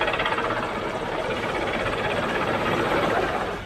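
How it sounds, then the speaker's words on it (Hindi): Air force helicopter hovering over a flood rescue in Gujarat: a dense, loud, continuous rotor and engine roar with steady chopping texture throughout, no voices. "यहाँ एयरफोर्स का हेलीकॉप्टर पहुंचा है।"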